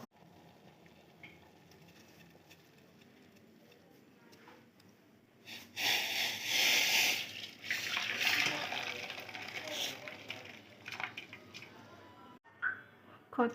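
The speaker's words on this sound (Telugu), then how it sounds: "కొద్దిగా దీని మీద కూల్ వాటర్ వేస్తున్నాను" Cool water splashes and gushes over boiled, salted and strained Yippee noodles. After a quiet start, the pour runs for several seconds as close, rushing water, then tapers off with a few trailing splashes.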